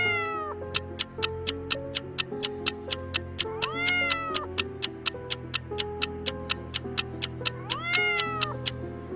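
A cat meows twice, rising and falling calls over a steady ticking clock and soft background music, the meows moderately near and clear.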